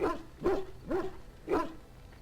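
A dog in Dragon Age: Origins gives four evenly spaced, mid-pitched barks or woofs, close and fairly loud, with no talk over them.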